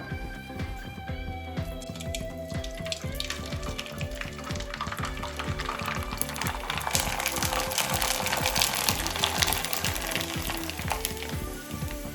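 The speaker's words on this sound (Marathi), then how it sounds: "मी पापड्या तळते, तुला द्यायची" Sabudana papad fries in hot oil with a dense, crackling sizzle that swells and intensifies over several seconds, steady and close, with no talking.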